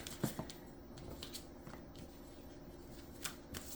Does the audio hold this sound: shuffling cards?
yes